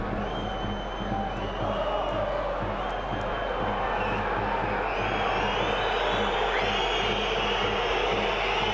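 Football stadium crowd at the 1860 Munich versus Bayern Munich II third-division match, a dense continuous roar and murmur with whistles rising over it, heard under steady commentary.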